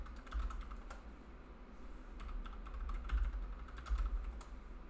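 A password is typed on a computer keyboard while logging into a Linux/Ubuntu remote desktop session: a steady stream of soft, close key clicks over a low background hum.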